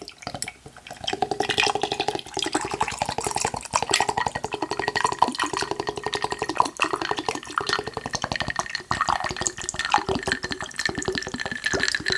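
A drink pours into a glass in a continuous close trickle for several seconds, splashing and gurgling at an even level.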